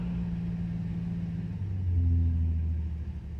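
A 1974 Dodge Dart engine, woken after five years sitting on old gas, idles roughly with a shaky low rumble, then its pitch climbs and wavers as it revs, steady and close with no talking.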